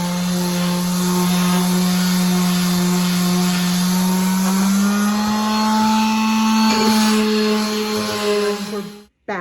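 A power sander works over wooden shelf boards with a steady, loud, droning whine that holds its pitch and shifts slightly partway through, then cuts off abruptly near the end.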